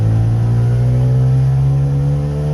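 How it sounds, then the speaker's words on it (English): Two-stroke car engine pulled at full throttle, a loud steady buzzing drone with strong harmonic tone that climbs slightly in pitch as it accelerates, heard close and alone without talk. "You hear that throttle open up"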